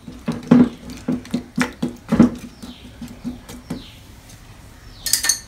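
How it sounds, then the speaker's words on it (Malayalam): A spoon stirs cucumber moru curry in a pot, producing a series of close, rhythmic clinks and wet sloshes about every half second, with a brighter clatter near the end. "ഒന്ന് നന്നായിട്ട് മിക്സ് ചെയ്ത് കൊടുക്കാം."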